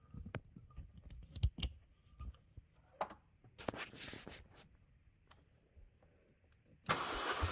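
Starter cranking a 2012 Chevy Cruze engine during a compression test, with irregular bursts of mechanical clatter and quiet gaps, ending in a loud sustained rush of noise near the end.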